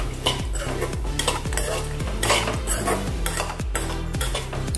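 Desiccated coconut and spices roasting in a pan while being stirred, with repeated close scraping strokes of a utensil against the pan and a light dry sizzle underneath, fairly loud.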